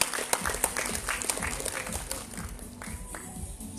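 An audience at a Miss & Mister Petite Sarawak 2019 semi-final pageant claps steadily, with sharp individual claps standing out early before the applause thins slightly, heard in a hall.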